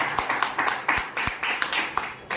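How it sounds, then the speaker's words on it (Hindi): Sharp claps ring out in a brisk, uneven rhythm at a sales seminar, a small audience clapping close by with no talk over it. "एक बार तालियां हो जाए मेरे से।"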